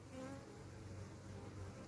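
Honeybees buzz around an open hive in a hi-tech community apiary in Berceto, a soft, continuous drone of many wings with brief rising tones as single bees pass near.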